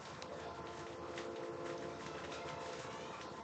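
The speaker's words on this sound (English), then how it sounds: "The train really letting out a horn right now." A train horn sounds at a high school baseball game between Bellevue West and Skutt Catholic, a steady sustained horn held under broad outdoor crowd and field noise for the whole stretch, moderately loud and distant.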